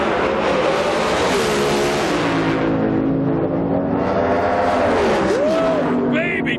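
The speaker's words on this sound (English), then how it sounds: "What a drag race." Top fuel drag racing cars roaring down the strip at the 2005 IHRA Rocky Mountain Nationals, a very loud sustained engine blast with a pitch sweep as the cars pass.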